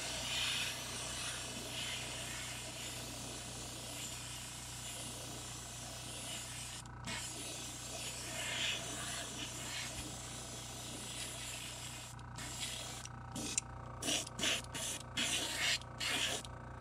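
An airbrush sprays white paint onto a crankbait in an emerald shad pattern at a little over 40 PSI, giving a steady close hiss that breaks into short, choppy bursts near the end.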